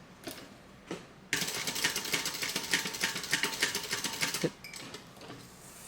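A sewing machine stitching a crossbody bag, a single dense burst of rapid mechanical chattering lasting about three seconds, close and loud, with a few small clicks before and after.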